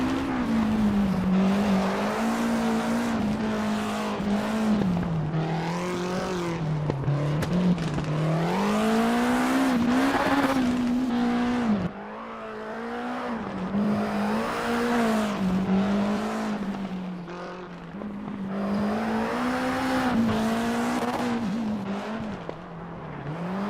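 A rally car in the WRC 8 video game roars through a tunnel, its engine droning loud and close with rising and falling revs, gear shifts and occasional tire squeal, booming off the enclosing walls.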